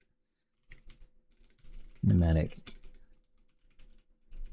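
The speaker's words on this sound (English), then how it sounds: "I'm getting a lot better at typing" Keyboard typing while programming a custom game engine, a steady patter of light key clicks running through the clip with a brief burst of speech in the middle.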